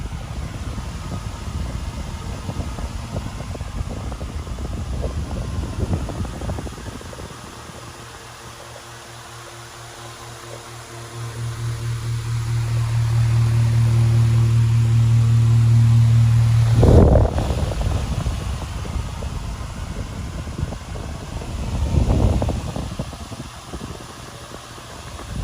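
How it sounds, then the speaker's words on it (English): A wall-mounted electric fan runs steadily with a broad airy whoosh and a low motor hum that swells louder midway, then settles, with a couple of brief knocks near the end. "Powerful air mover."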